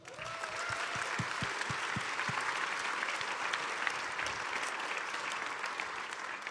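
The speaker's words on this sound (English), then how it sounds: "Can we give them an applause?" A large conference audience at DrupalCon Atlanta 2025 applauds the event's sponsors. The clapping is sustained and even, and a few low thumps are heard at the start.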